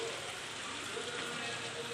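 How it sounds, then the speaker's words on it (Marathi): Steady, even hiss of rain falling, continuous and moderately faint, with no other distinct sounds. "आज काही पाऊस थांबायचं नाव घेत नाही"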